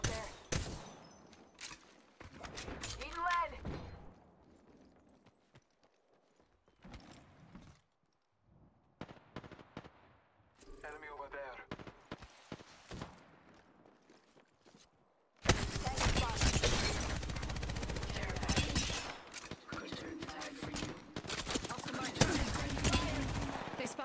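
Gunfire in the shooter game Apex Legends Arenas: scattered shots and short bursts early on, then a dense, loud stretch of sustained firing and explosive chatter in the second half, with game voice callouts mixed in.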